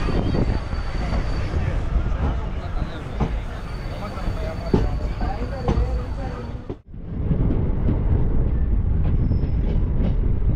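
A Special Fare Express passenger train runs on the rails between Tambaram, Palani and Podanur, a loud steady rumble of wheels with squeals and clatter, briefly dipping as it passes something, then resuming its constant roar.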